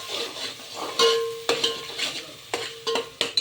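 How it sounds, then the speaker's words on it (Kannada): Masala for South Indian style rajma fries and is stirred in a pan, a soft sizzle under repeated sharp scrapes and clinks of a spoon against the metal, close and alone with no voices. "ಹಿಂಗೆ ಫ್ರೈ ಮಾಡ್ಕೋಬೇಕು ಮಸಾಲೆಯಲ್ಲಿ."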